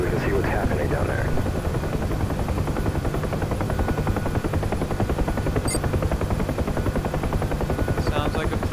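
Steady, loud Huey UH-1H helicopter rotor thrum in the DCS flight simulator, continuous throughout, with faint bursts of distant gunfire near the end.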